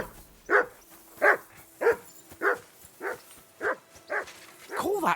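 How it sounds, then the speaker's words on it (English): A dog barks in the medieval video game Kingdom Come Deliverance II: about eight sharp, evenly spaced woofs, one roughly every half second, close and clear over quiet background ambience. "Whistle at that mutt of yours to stop barking"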